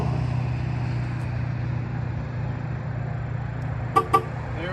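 Tesla car chirping as it unlocks from a phone key, two quick short chirps near the end over a low idle hum.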